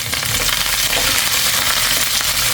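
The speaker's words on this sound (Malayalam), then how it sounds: "വേപ്പില നന്നായിട്ടൊന്ന് മൊരിയട്ടെ" Curry leaves and onions fry hard in a pan while clams cook. The sizzle is a dense, loud, steady crackle that runs without a break from start to finish.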